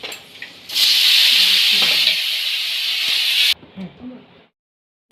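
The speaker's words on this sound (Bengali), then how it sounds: "শুকনো লঙ্কা দিলাম, একটু পাঁচ ফোড়ন দিলাম" Dried red chillies and panch phoron hitting hot oil, a sudden loud hissing sizzle that holds for about three seconds then cuts off, with brief voice-like sounds before and after.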